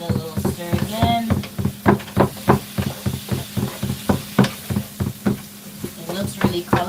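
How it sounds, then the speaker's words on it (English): Shrimp frying in a pan is stirred in a quick, regular rhythm of loud scraping knocks over a constant sizzle, close and clear, with no talking. "Just give it a little stir again."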